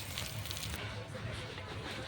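Chop shells fry slowly in oil, a soft continuous sizzle and faint crackle heard fairly quietly throughout, with no talk over it.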